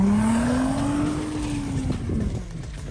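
An all-wheel-drive car with a VQ engine revs hard at full throttle while sliding, a loud sustained engine note that climbs and wavers, with tire noise beneath and no talk.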